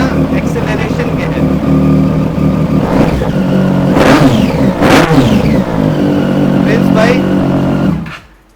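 Triumph Daytona superbike engine revving in place, several sharp throttle blips rising and falling over a rumbling idle, loud and close, before cutting off abruptly at the end.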